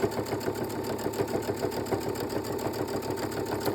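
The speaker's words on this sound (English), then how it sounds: "we're just basically going to run a top stitch, stitch in through there, which is basically just a running stitch, but it's very close to the edge" A sewing machine runs a close-edge top stitch along a fabric key fob, its needle chattering in a fast, even rhythm. The sound is close and unbroken throughout.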